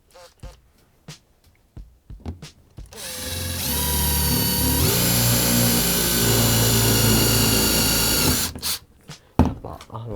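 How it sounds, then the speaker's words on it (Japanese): A power drill bores a pilot hole into a bamboo flute, a steady loud whir lasting several seconds with a pitch shift partway, framed by short knocks and handling clatter before and after. "でこの後下穴を開けます。"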